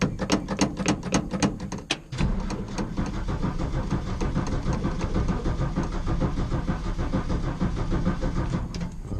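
1965 Ford F100 engine cranking on a weak battery with a little choke: a rhythmic, sluggish starter chug pulses for about two seconds, then gives way to a steady, low mechanical rumble that runs to the end.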